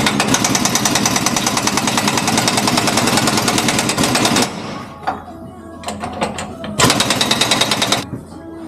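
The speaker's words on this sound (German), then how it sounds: "wir schrauben jetzt die vier Schrauben von den zwei Hybriden einmal locker" Power tool rattles loudly and continuously while loosening bolts on a new truck's leaf springs, then stops into a quieter stretch of clanks before another hard burst of rapid impact hammering.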